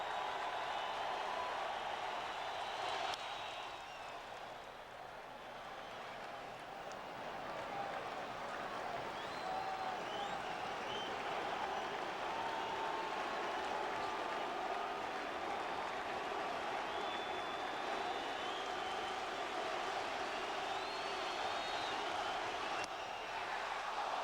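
Huge stadium crowd at Dodger Stadium during a 2004 NLDS playoff baseball game, a dense continuous roar of cheering that swells and holds steady throughout, with a broadcaster's voice faintly under it.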